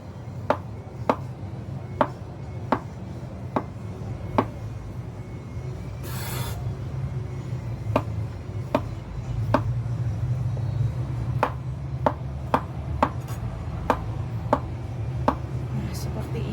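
Knife chopping tofu and tempeh on a cutting board in a home kitchen, sharp evenly spaced taps close by over a continuous low background hum.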